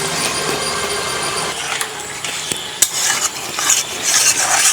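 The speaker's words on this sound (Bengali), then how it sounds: "এবারে দিয়ে দিচ্ছি নারকেলের দুধ।" Coconut milk being stirred into an egg curry in a pan, a steady scraping and stirring with faint sizzling and a few sharp utensil clicks against the pot, close and moderately loud.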